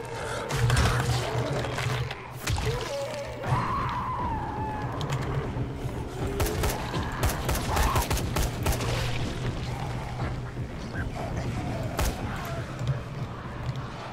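Gunfire in the zombie game Dying Light, dense bursts and single shots crackling near and loud across a busy soundscape on a bridge, with background game noise throughout.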